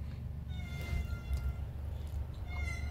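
A cat meows a few times, fairly faint and somewhat distant, over a steady low rumble of background noise.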